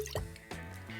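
Whiskey, a Westward single cask bottling, pours briefly into a glass, a short close liquid splash and drip standing alone.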